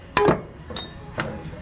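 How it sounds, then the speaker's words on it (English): A rear bushing on a Polaris Ranger crew side-by-side is tapped into place: a few light, sharp metallic taps, close by and spaced unevenly. "give that a little tap"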